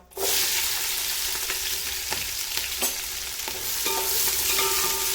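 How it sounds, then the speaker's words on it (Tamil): Sliced onions sizzle and crackle loudly in hot oil nearby, frying for chicken biryani, with occasional clinks of a spoon stirring the pan. "அதுக்கப்புறம் நம்ம வெங்காயத்தை போடலாம்."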